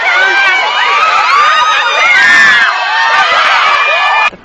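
Crowd outside a Kentucky Derby party cheering and shouting continuously, with excited whoops and high children's voices, loud and sustained, cutting off abruptly at the end.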